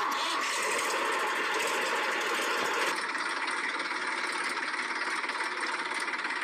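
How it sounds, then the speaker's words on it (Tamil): A cartoon vehicle engine cranks and runs in a dense rattling buzz, steady and loud, changing to a lighter, more even chatter partway through, with no talking. "நான் வண்டி ஸ்டார்ட் பண்ணுறேன்."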